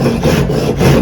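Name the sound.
hand saw cutting wood for a miter joint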